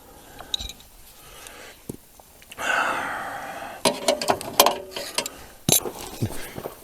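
A 19 mm socket on a ratchet turns a fitting while a heater core is removed from a 2000–2005 Chevy Impala, giving off bursts of close, sharp clicking, with scrapes and metallic handling sounds in between.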